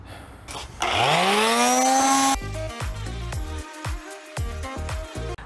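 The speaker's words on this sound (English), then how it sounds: "So we'll sand them down, then put them together" A power sander spins up with a loud rising whine, runs briefly, then chatters and stutters against wood before winding down.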